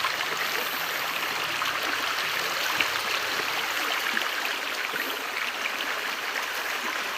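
A river in Indonesia, used by locals for washing clothes and bathing, flows in a steady, dense rushing hiss that holds even and unbroken throughout, with no voices.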